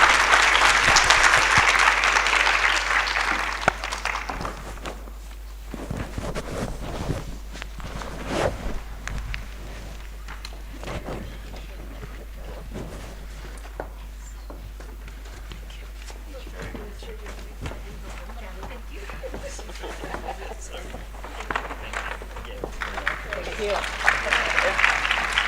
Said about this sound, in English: I really want to give our panelists a huge round of applause.